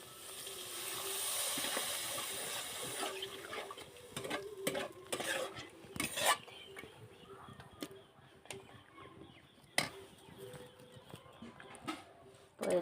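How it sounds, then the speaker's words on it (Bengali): Spices with turmeric powder and a little water being stirred in a cooking pot, a spoon scraping and clinking against the metal with a soft sizzle, fairly steady at first then in scattered knocks and scrapes. "তো এটা আগে একটু নেড়ে নেব"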